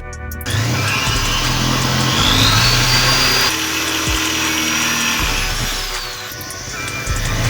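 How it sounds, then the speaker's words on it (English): A power drill bores holes in a car for a strut brace install, whining continuously, its motor pitch shifting as it bores, with a short pause and restart near the end. "come back here and drill another hole"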